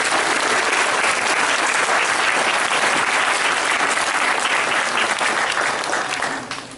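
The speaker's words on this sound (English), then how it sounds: "So let's give our victim a big round of applause." Loud, sustained applause from a room full of parents and children after a classroom science demonstration, a dense roar of clapping that holds steady before fading at the close.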